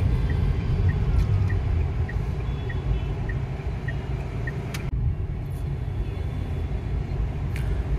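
A car drives along Station Road in Nalasopara and makes a U-turn, its engine and road noise forming a steady rumble while a vehicle's reversing beeps pulse regularly for the first few seconds.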